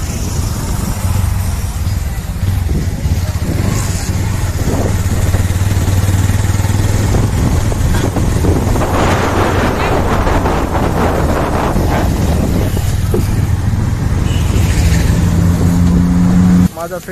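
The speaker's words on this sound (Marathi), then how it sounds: "भाऊची गाडी चालवून मला खूपच मजा येते आणि गाडी पण एकदम कंडिशन मध्ये आहे" Motorcycle engine drones steadily under heavy wind buffeting on the microphone during a road ride toward Raigad, loud and continuous, with a voice speaking faintly at moments.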